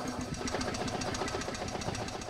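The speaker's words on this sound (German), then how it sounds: "Und er startet mit Luft, Luftgestart und mit Zündfix." An old blue Deutz engine, air-started, runs steadily at an oldtimer meet, giving a dense, even mechanical chatter with rapid knocking pulses at constant loudness throughout, no voices over it.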